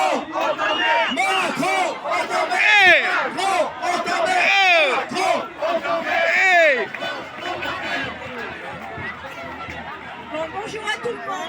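A large crowd shouts and cheers loudly at a protest rally, with dense, continuous roaring voices and rising yells that stay close and intense throughout before easing slightly toward the end.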